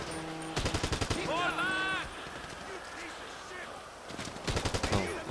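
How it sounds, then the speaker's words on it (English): Bursts of military rifle fire in Grand Theft Auto Online, two rapid volleys of loud close shots at the start and end with a gap between, game sounds and a squealing noise in the middle. "equip a military rifle and hide behind the fence"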